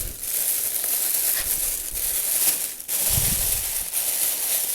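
Paper wrapped around pepper seeds crinkles and rustles steadily as it is handled and pushed into a bag, with a few soft thumps close by.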